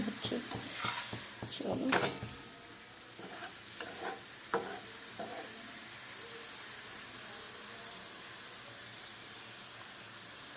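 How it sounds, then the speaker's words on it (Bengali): A faulty gas stove burner gives off a steady, broad hiss throughout, with a few brief clatters of cookware near the start before it settles into an even, moderately loud rush. "গ্যাসটা আওয়াজ দিচ্ছে, কিছু একটা প্রবলেম হচ্ছে।"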